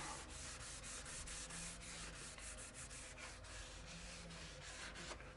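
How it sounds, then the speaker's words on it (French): Abrasive paper on a sanding block rubs across the bodywork of a Peugeot 406 being prepped for paint outdoors, a steady close scraping hiss with quick back-and-forth strokes, quiet overall and without speech. "On y va avec la cale en prenant l'abrasif"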